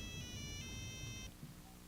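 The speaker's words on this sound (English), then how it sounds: "I'm sorry, Judge. That's my cell phone." A cell phone ringtone chirps in a courtroom, a repeating electronic melody played fairly quietly over room noise before cutting off partway through.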